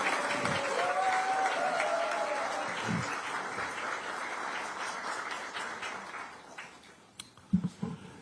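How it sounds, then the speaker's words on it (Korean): Applause from an audience at a Democratic Party political speech about Honam regional development, a sustained wash of clapping that gradually fades, with a few louder claps near the end. "여러분 여기서 박수 한번 보내주시죠."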